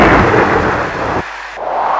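Heavy thunder rumbles close and loud, a broad roar that cuts off sharply partway through and then resumes more faintly, with no voices over it.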